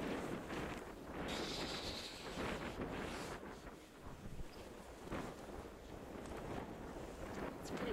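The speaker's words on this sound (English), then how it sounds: "And it's windy." Strong wind buffets the microphone on a beach, a steady roaring rush that swells and dips for the whole stretch with no clear voices over it.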